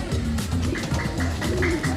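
A pigeon held in the hand gives soft, rhythmic coos, several repeated low throaty calls close by, with some handling noise.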